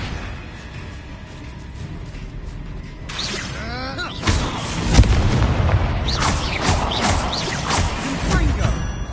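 Confringo fire spells blast in the Hogwarts Legacy video game: after a quieter start and a whooshing sweep, a rapid string of loud booming explosions and crackling impacts fires close together through the second half.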